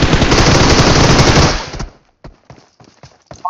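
Gunfire in the video game BGMI, a dense burst of rapid automatic fire lasting about a second and a half, followed by a few scattered single shots and quieter clicks.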